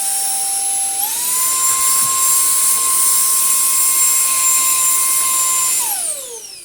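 A Beldray Roller cordless vacuum cleaner runs steadily after a filter wash, giving a loud, high-pitched motor whine that rises slightly in pitch early on, holds constant for several seconds, then winds down at the end.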